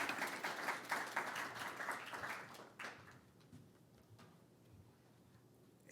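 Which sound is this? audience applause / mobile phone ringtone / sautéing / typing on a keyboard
audience applause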